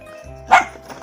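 A dog barks once in a home garden, a single sharp bark at moderate distance that rises briefly above quiet outdoor background hum.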